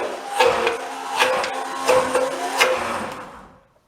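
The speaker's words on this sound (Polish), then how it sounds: "I miksujemy, aż majonez osiągnie jednolitą konsystencję." An electric blender whirs through homemade mayonnaise as oil is added, surging in several rhythmic pulses before winding down to silence at the end.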